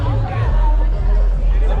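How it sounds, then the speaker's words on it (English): Dense crowd babble at the India Bike Week motorcycle festival, a continuous loud hubbub of many voices with a low rumble underneath. "So all over"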